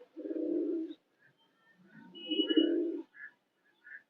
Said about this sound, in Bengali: ডাউন ফেসের একটা কবুতর